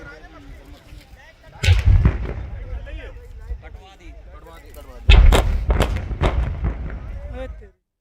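Gas cylinders bursting in a warehouse blast in Bareilly: two loud, booming explosions a few seconds apart, each trailing into crackling rumble, over a steady background of noise and distant commotion.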